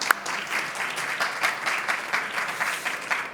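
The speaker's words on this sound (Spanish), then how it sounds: "Sí, un aplauso, claro que sí." An audience applauds at a panel discussion on local government, with steady, dense clapping from a room full of people that carries through the whole stretch, and no speech over it.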